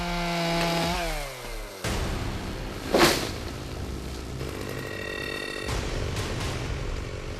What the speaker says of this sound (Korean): 산중엔 전기톱 소리만 요란하게 울려 퍼지는데요.